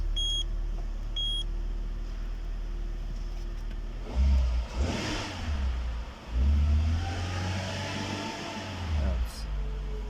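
A Peugeot 206 with a fuel pump and float fault, indoors in a workshop: two beeps, then the engine cranks and starts, revving a few times and settling to a steady, fairly close idle.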